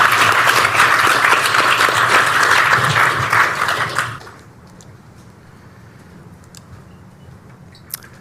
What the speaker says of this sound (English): Let's give Jai a round of applause